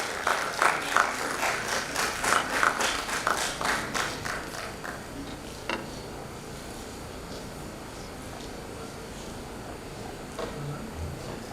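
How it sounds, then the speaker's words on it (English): Applause from a conference audience welcoming dignitaries onto the dais, a brief patter of claps at the start that thins quickly, followed by a low murmuring room with scattered faint taps. "may I request you all to welcome our esteemed dignitaries with a warm and gracious round of applause"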